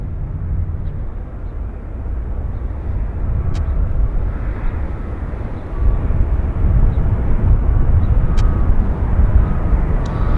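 An Airbus A350 airliner on approach at Vancouver Airport produces a steady, loud broadband roar that swells slightly toward the end, heard from outdoors without talk.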